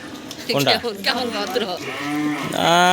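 Cattle at a free vaccination session give loud, close moos and bleat-like calls, with several cries rising and falling over one another as people talk and handle the animals nearby.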